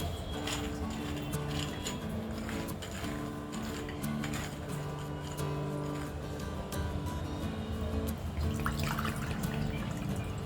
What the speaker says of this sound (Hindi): इसमें हम 4 कप पानी डालेंगे।